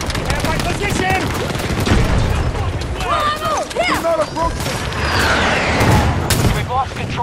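Battlefield 2042 combat with rapid automatic gunfire, sharp bursts and booming blasts, loud and continuous, while voices shout over the shooting.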